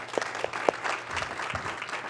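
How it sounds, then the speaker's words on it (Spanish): A church congregation applauding, a short burst of scattered clapping from a moderate crowd, slightly distant and soft, lasting about two seconds. "¿Podemos darle un aplauso a todos aquellos que sirven?"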